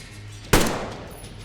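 A single sharp gunshot in the post-apocalyptic shooter Metro Exodus cracks loudly out of low background hum, its echo decaying over about half a second.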